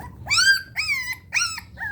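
Puppies feeding beside their mother dog give a series of four high, whining yelps and whimpers, evenly spaced and close, over a low background rumble.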